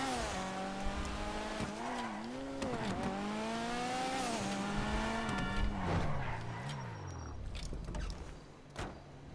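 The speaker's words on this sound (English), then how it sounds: "It's like a rally car, drifts all the time." A hard-to-handle car drifts in GTA 5, its engine revving up and down with rising and falling pitch while tires squeal through the slides, loud and close, with no voices.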